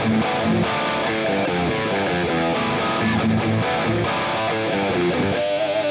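A distorted electric guitar plays a minor-key rearrangement of a song's riff, a dense, loud run of chugging picked notes and chords with no voices.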